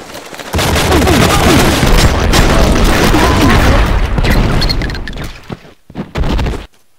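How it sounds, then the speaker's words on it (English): Explosions in the action game Enter The Matrix: a loud, sustained roar of booming blasts and debris for several seconds, then tapering into a few scattered thuds before silence. "They explode in not only me but themselves as well."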